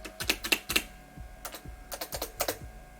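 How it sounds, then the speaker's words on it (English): Keys clack on an existing computer keyboard sitting on a desk, close and crisp, in short irregular bursts of a few strokes at a time with brief pauses between. "So this is the existing keyboard on the same desk."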